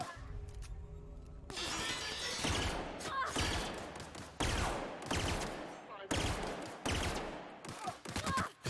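Gunfire in the video game The Outer Worlds, a loud run of rapid, close shots in repeated bursts with little pause between them.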